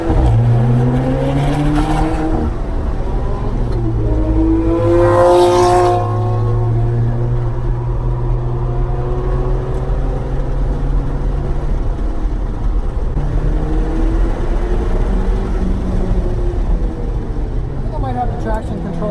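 A sports car on a track, either a Subaru BRZ or an Alfa 4C, drones loudly throughout with rising and falling revs as it accelerates out of tight corners with traction control cutting in; a voice talks over it.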